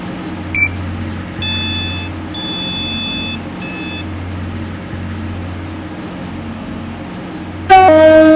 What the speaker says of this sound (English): The train now approaching Platform 5.